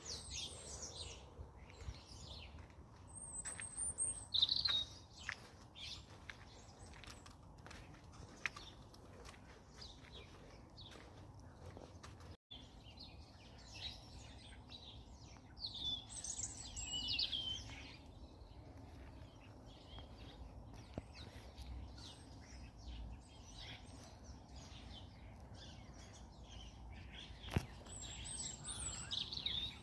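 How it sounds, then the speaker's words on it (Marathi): Birds chirp and tweet intermittently over a quiet outdoor background in England, with scattered high calls coming and going across a long stretch, mostly moderate to faint. "सगळ्यांना पक्ष्यांचा आवाज ऐकू द्या"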